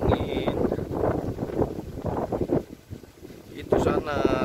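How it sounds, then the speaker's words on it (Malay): Gusty wind blows at a beach during shore net fishing, with rough, buffeting microphone noise that swells and dips throughout. Brief voices are heard near the end. "Angin."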